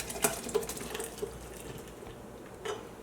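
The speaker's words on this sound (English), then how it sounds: "Pour it down into the mixer." Creamy tomato basil soup poured from a pot into a blender, a faint liquid splashing and trickling with a few small clinks, alone without talk.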